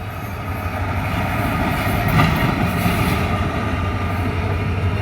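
A Dhaka to Cox's Bazar train, running without most of its coaches, rumbles past steadily with a faint rhythmic clatter of wheels on the rails, moderately loud and without voices.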